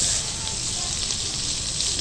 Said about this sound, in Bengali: তার জন্য কড়াইতে মাখন দিয়ে দিচ্ছি।